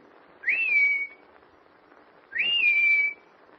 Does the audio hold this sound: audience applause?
no